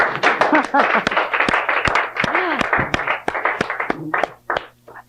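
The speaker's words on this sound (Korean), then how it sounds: "박수를 한번 치면 좋을까요?" A small group of workshop participants clapping at a training session, a run of distinct sharp claps in an uneven rhythm mixed with people talking over them, tapering off near the end.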